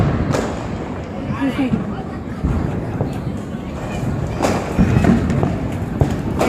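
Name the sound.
Diwali firecrackers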